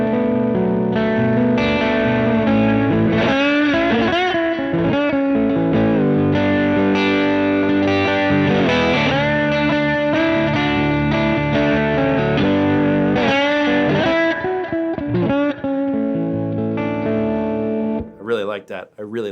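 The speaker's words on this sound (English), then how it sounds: "this is why I love the Firebird pickup. You can hear that crispy top end that's like really sweet" Lap steel guitar with a Firebird pickup played through an amp, sustained sliding chords with a crisp bright top end, loud and continuous, with effects, ending in a brief fade.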